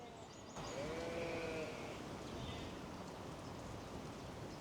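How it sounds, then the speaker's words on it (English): Sheep bleating in a field next to a village in Somerset, a few drawn-out calls at a moderate distance over a steady background hiss like light rain. "Listen how noisy these sheep are."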